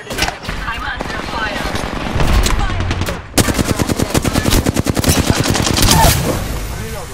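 Gunfire in the Apex Legends shooter, with a loud sustained burst of rapid automatic shots after a shorter exchange of firing, with game voice chatter at times.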